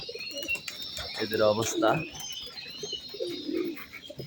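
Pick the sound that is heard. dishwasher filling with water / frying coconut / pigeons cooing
pigeons cooing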